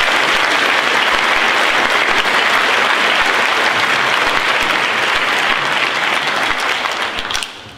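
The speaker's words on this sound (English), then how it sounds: "Please join me in thanking Mrs. Miller for her service to the Greenwich School District with a round of applause." Steady, dense audience applause at a high school class of 2018 graduation for a retiring district staff member, loud and sustained throughout before tapering slightly at the very end.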